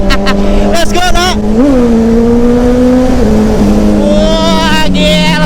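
A big motorcycle engine revving hard, with sustained throaty tones that rise and settle over several seconds. People talk over it throughout.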